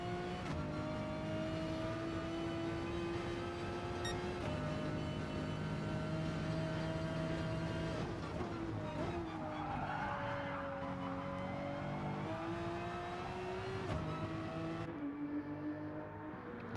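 Engines of race cars in a sim racing league broadcast whine steadily through the gears, with short upshifts and a few engine tones overlapping as cars pass, loud and continuous throughout.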